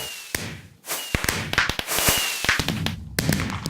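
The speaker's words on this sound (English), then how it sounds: "Yay, fireworks." Fireworks in a video game pop and crackle in a rapid series of sharp, close bursts and snaps, with a faint rising whistle between them.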